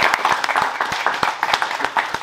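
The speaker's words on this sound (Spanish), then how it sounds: "Bueno, aplauso para Orlando Salido." Applause for a boxer at a boxing press conference in Texas, a room full of people clapping steadily for about two seconds, sharp claps thick and close together, with some voices faintly underneath.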